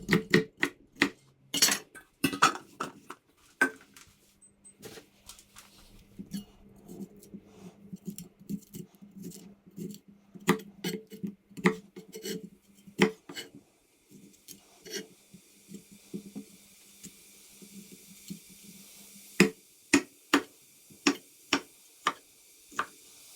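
A knife chops a broccoli stalk into smaller pieces on a board, sharp clacking cuts coming in irregular bursts then steadier strokes, close and crisp with brief pauses between runs.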